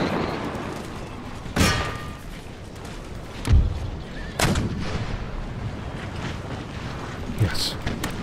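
Grenadiers firing in Empire Total War (Darthmod) during a battle in Greece: four heavy booms spaced a second or more apart rise over a constant rumbling battle din.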